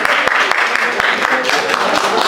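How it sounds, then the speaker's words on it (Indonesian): A classroom group claps for the fourth student group after an arts lesson presentation: a brief, dense burst of applause with sharp hand claps and voices mixed in. "Beri tepuk tangan untuk kelompok 4"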